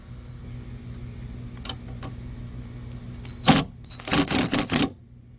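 A socket wrench loosens a motor mount bolt on a Nissan Altima, heard as a sharp metallic clack followed by a quick series of close, loud ratcheting clicks over a low background hum.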